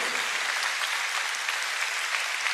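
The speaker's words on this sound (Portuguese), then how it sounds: "Dê mais uma salva de palmas a Jesus." A church congregation celebrating its 27th anniversary claps together in a dense, continuous burst of applause, full and close, with no voices over it.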